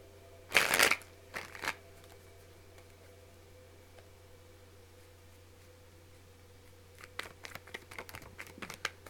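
A deck of tarot cards is shuffled in a quick, crisp riffle burst near the start, followed by a softer shuffle. Later come several light, scattered card flicks over a low steady room hum.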